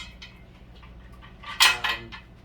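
Glass jars of home-canned gizzards clink together twice in quick succession as they are lifted from a pressure cooker, brief and close in a quiet room.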